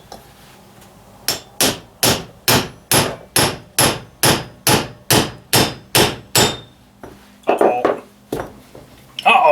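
A hammer strikes a wheel bearing on a Ford 800 tractor, about a dozen evenly spaced ringing metallic blows close by, then a few looser, irregular hits near the end.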